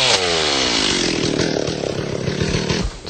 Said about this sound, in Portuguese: No meio da clareira recém-aberta, a motosserra.